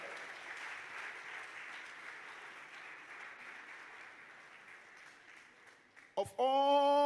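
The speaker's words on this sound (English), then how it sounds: "Put your hands together." Sustained audience applause fills a book launch event at Accra Academy, a steady dense patter of many hands that fades slightly before a sharp burst of feedback-like tone cuts in at the end.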